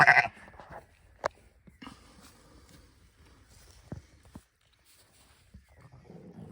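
Sheep bleat several times, close and fairly loud at the start, then fainter calls scattered through quiet farmyard background.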